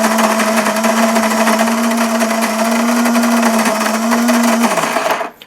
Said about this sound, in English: The grinder is really quiet